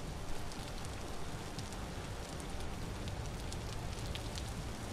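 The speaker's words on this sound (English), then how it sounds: "is it ever gonna stop raining here?" Constant rain hissing down in an even, dense patter, with no pauses or voices.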